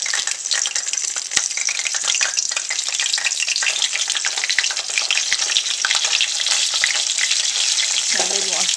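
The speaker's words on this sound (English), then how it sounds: "back with frying eggplants" Eggplant frying in hot oil gives a steady, dense sizzle with crackling pops that runs the whole time, close and loud, with a faint low clatter near the end.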